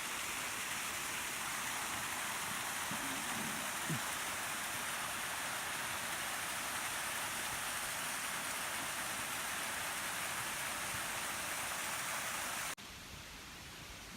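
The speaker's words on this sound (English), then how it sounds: "This is the waterfall on the back side of the chapel" Thunder Falls, a waterfall on a winding river behind a chapel at Dogwood Canyon Nature Park near Branson, Missouri, gives a steady, even rushing roar that holds constant throughout and drops abruptly near the end.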